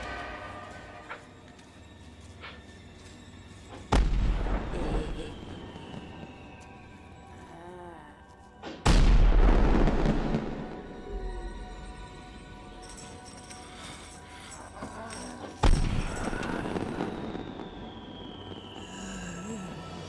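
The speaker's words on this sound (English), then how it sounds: "So they start setting off fireworks," Fireworks going off in a burst-filled film scene, with three sharp loud booms spaced several seconds apart, each followed by crackling and hissing sparkle that trails off, and a dense rumbling mix continuing between blasts.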